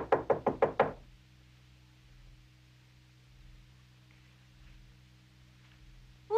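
Five sharp knocks on a wooden door in quick succession open the scene, followed by a low hum of room tone and a faint thump at the very end.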